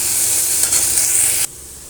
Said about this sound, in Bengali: লাউ কাটা হয়ে গেলে মা এখন চিংড়িটা ভেজে নেয়।